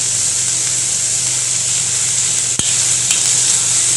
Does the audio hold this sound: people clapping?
no